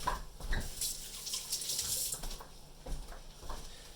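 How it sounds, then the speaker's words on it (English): Water from a running kitchen tap splashes faintly over hands being washed, an uneven soft rush with small spatters, close but quiet. "I'm going to wash my hands real quick."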